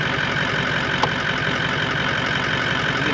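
A car engine idles steadily at a remote free camp in the Australian outback, a constant close rumble with one brief sharp click partway through.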